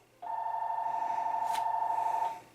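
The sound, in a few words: phone ringing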